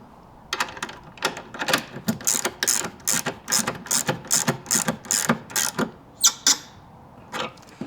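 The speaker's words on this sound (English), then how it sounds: "a 5/8" wrench and ratchet will be needed to secure it in place." A ratchet tightens the antenna mount on a Jeep JL Wrangler tailgate, giving quick runs of sharp, close clicks in an uneven rhythm with short pauses between strokes.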